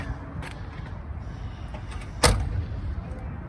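The massive hood of a 1978 Cadillac Eldorado Biarritz coupe being released and opened, a faint click followed by a sharp, loud metallic clunk and latch sound, then quiet rustling, outdoors with no speech.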